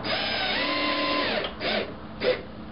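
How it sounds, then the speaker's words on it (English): An electric screwdriver drives screws into timber while a wooden stomp box is built, a close whirring motor that winds down, followed by two short bursts, heard without talk. "You don't need an electric screwdriver, it's just a bit quicker, that's all."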